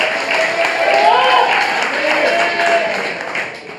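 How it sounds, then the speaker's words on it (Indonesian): Studio audience applause during a televised Indonesian political talk show, a steady broadband wash of clapping lasting several seconds, with voices and a tonal element blended faintly underneath. "ya silakan tepuk tangan"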